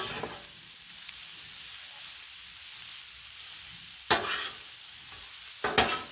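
Pierogi and kielbasa sizzle on a Blackstone griddle in a soft, steady frying hiss, broken by two sharp scraping stirs of a spatula near the end.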